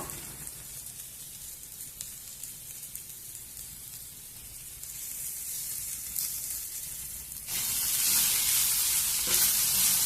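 Okra fry with coconut powder sizzling in a pan, a steady soft crackle that swells louder and brighter toward the end, with no talking.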